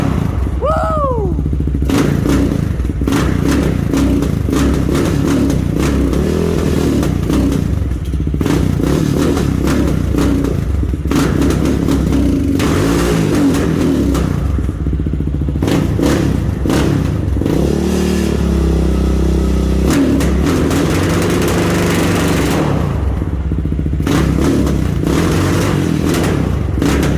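Yamaha Raptor 660 ATV engine, rough-running and in need of carb tuning, idling loudly close by with repeated throttle blips and revs rising and falling, with some clattering and voices now and then.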